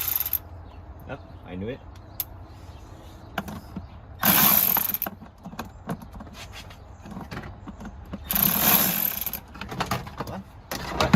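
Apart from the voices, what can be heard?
Milwaukee power ratchet removing Hyundai Santa Fe engine cover bolts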